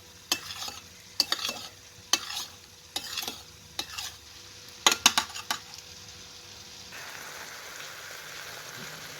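Onion and chicken liver fry in a pan while a utensil stirs them, producing a series of sharp scraping clatters over a soft sizzle that continues alone after the stirring stops. No one speaks.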